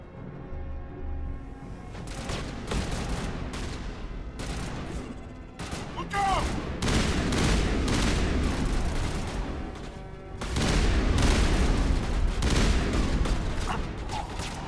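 Video game gunfire in a squad firefight, with bursts of shots and mechanical clatter over a busy battle mix that swells louder toward the end.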